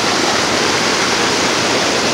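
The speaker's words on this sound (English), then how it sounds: "That water's trucking too, boy. See how fast that water's going?" Fast-flowing water of the Nantahala River rushes loudly and steadily, a dense, continuous roar close by with no break for the whole stretch.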